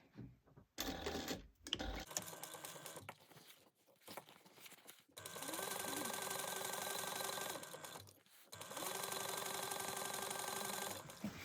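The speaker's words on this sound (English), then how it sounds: "you're going to sew a 3/8 inch seam allowance through both items" A sewing machine stitching a 3/8 inch seam through a fabric fold-over piece and its lining, short bursts at first, then long steady runs of rapid mechanical whirring with a brief pause between them.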